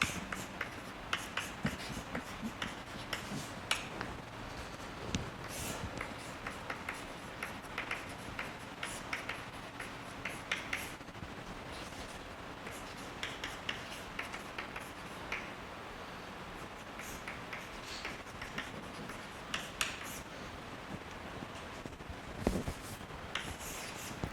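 Chalk or marker scratches and taps steadily across a board during a physics lecture, a dense run of short strokes and clicks continuing unbroken at a close, moderate level without speech.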